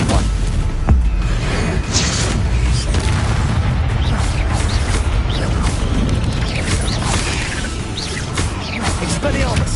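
Spell explosions from Confringo and Bombarda in the Hogwarts Legacy video game, with booms, crashes and whooshes in a dense, continuous battle mix under repeated shouted incantations.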